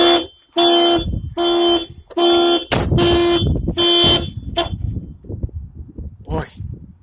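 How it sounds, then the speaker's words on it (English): A Volkswagen Jetta's car alarm blares in loud repeating bursts, five sharp honks at a steady rhythm before cutting off, followed by rumbling and a brief chirp. "The alarm works now."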